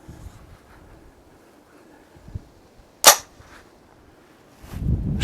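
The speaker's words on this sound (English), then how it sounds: "Shooting at the left target." One sharp crack from a Taurus CT9G2 9mm pistol fired at an outdoor target stands out midway, followed by faint rustling and handling noise, with no voices.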